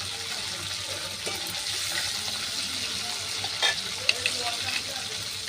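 Whole cumin seeds and bay leaf sizzle in hot oil, a steady broadband frying hiss that stays close and even throughout, with a few small crackles and pops.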